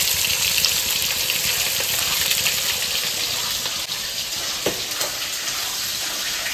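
Fish frying in a pan, a loud, continuous sizzle with a few sharper pops and crackles, heard alone without talk.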